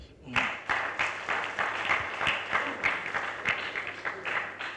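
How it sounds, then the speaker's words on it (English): A dinner reception audience applauds the governor, a sustained round of clapping that starts abruptly and continues evenly, moderately loud with distinct individual claps standing out. "let's give the governor a very big round of applause"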